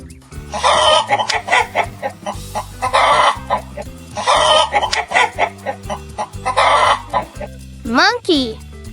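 Chicken clucks in bursts of rapid, pulsing calls repeated over a steady rhythmic backing track, with a voice rising and falling in imitation of a hen at the end.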